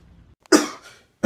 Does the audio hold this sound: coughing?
yes